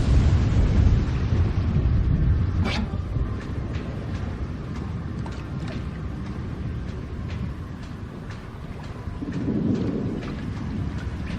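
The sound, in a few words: thunderstorm weather effect in video game Zanki Zero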